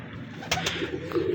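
Pigeons kept by a fancier coo softly at close range, a low throaty rolling call, with two short flutters or taps in the middle.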